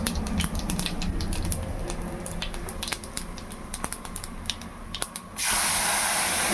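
Cumin, turmeric powder and masala frying in hot oil for a potato and field bean curry, with a dense crackling sizzle and quick pops that swell into a louder hiss as more goes into the pan.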